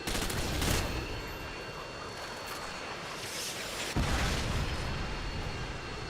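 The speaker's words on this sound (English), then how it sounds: "Predator missile inbound." Missile strike explosions in a video game roar through the whole stretch, a dense rumbling barrage with a sharp new blast near the end, loud and continuous.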